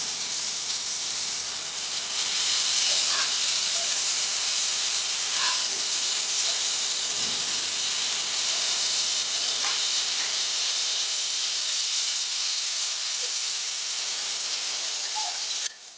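Prawns fry in hot oil with a steady, close sizzling hiss and occasional faint pops that run unbroken for the whole stretch.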